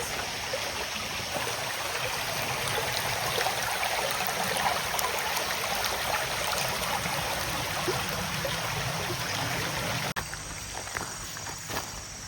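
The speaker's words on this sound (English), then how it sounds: "It probably just leads down to this creek over here." A creek in the Roanoke and Salem area of Virginia flows with a constant, full rushing wash. Faint footsteps sound nearby, and the tone shifts slightly just before the end.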